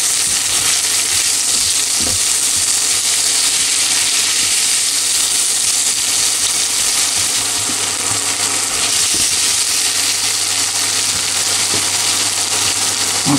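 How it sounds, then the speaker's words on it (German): Potatoes, onion and caraway fry in oil in a pan, giving a loud, dense, unbroken hiss of frying with only occasional faint clicks. "lassen die mit der Zwiebel zusammen so ein bisschen Aroma annehmen von dem Kümmel"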